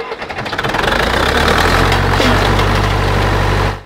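A Zetor tractor engine starts with a box left over its exhaust pipe. It catches and knocks loudly and roughly for a few seconds, close by, then cuts off abruptly.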